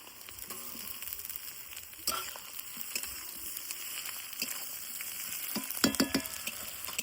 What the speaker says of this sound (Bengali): পেঁয়াজ আর টমেটো বেশ ভালোভাবে নাড়িচাড়ি নেই